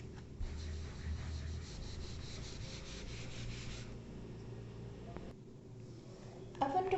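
An eraser rubs across a board in a steady scrubbing run of about four seconds, followed by quieter handling sounds and a brief louder scrape at the end.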